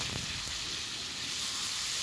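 Pre-fried chicken pieces sizzle in fried masala in a pan for chicken pulao, a steady close crackling hiss with a couple of brief sharper pops at the start.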